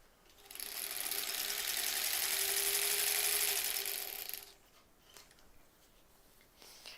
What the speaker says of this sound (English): we're going to just sew until we run out of fabric on this strip.